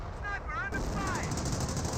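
.30 cal machine gun fire rattles in a dense, continuous barrage in the real-time strategy game Company of Heroes, US forces against Panzer Elite, with brief voice-like battlefield calls over the din.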